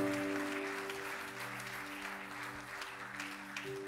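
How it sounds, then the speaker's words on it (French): Church congregation applauding, a dense steady clapping for a few seconds with sustained organ or keyboard tones underneath. "Est-ce qu'on peut acclamer pour le roi des rois?"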